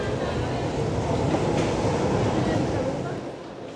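A Tyne and Wear Metro train rumbles along at close range, a dense rolling roar with rattling wheels that holds steady and then begins to fade.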